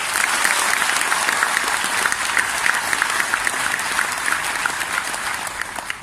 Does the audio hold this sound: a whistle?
no